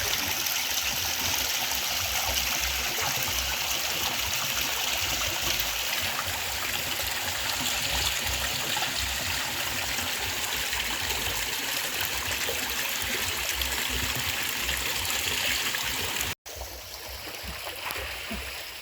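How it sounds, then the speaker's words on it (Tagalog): Continuous rushing flow at Tubod Spring, a freshwater bathing place in Magsaysay, Valencia, Bohol, holds a dense, steady wash close by for the whole stretch, with a momentary break near the end before the stream resumes. "Ito yung tinatawag na tubod. Tubod Spring."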